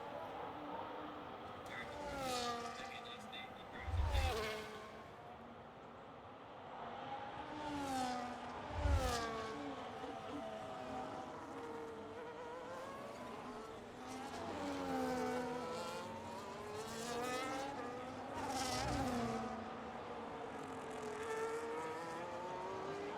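A race car engine in a sim racing game, distant and fairly faint, rising and falling in pitch through gear changes and throttle lifts, with a few heavier low thumps along the lap, under commentary talk.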